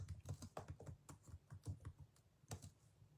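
Fingers type on a computer keyboard in quick, irregular bursts of faint clicking keystrokes, entering a comment. The sound is quiet and close, with no talking.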